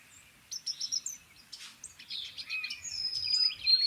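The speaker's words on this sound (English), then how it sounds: "here's the white-throated sparrow." A white-throated sparrow sings a run of thin, high whistled notes and chirps, moderately faint and alone, growing a little louder toward the end.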